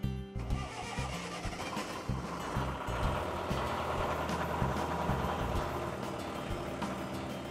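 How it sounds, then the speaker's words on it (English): A boat's inboard engine cranks and fires up after a DIY oil change, then settles into a steady, loud, low mechanical running rumble close by, with no talking. "Now it's time to turn the engine over and watch the oil pressure gauge"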